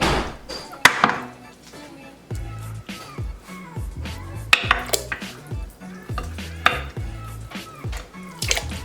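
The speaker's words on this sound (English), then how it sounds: "what we're gonna do is throw our meat into a big pot" Beef and bones for caldo de res dropped into a big cooking pot, with heavy clunks and metallic clatter of pot and utensils recurring through the clip, close and fairly loud, with a little talk underneath.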